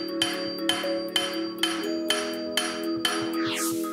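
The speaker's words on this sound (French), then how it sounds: "Il sera entièrement fait au marteau à la main." A silver dish is planished by hand from sheet metal, each hammer blow ringing out sharply in an even rhythm of about seven strikes, with a bright metallic resonance between hits.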